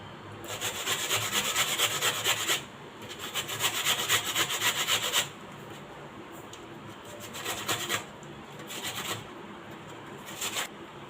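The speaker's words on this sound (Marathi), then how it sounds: "आता आपण किसणीवर काकडी किसून घेऊया" Cucumber being grated on a hand grater, skin left on and only the outer side taken, heard as close rasping bursts in long runs broken by pauses, then shorter strokes toward the end.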